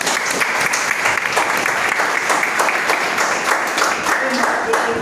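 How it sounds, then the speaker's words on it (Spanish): A roomful of people at a lecture or talk clap together, with dense, loud applause filling the whole stretch and some voices mixed in. "Vamos a dar un aplauso."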